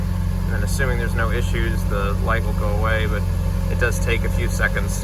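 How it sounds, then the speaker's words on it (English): A 2013 Ferrari California engine on a cold start holds a steady, loud low drone throughout while someone talks over it. "This is a cold start."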